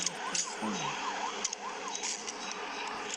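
A police car siren in a video game wails in a repeating rising and falling pattern, moderately loud beneath faint game sounds and occasional clicks.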